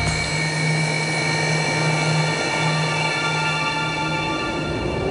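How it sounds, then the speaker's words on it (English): Su-30 MKR fighter jet turbines spooling up before takeoff: a loud, steady roar with strong whining tones that climbs toward a shrill hiss, continuous throughout with no talk. "And the sound, low roar of rotating turbines turning into a shrill hissing."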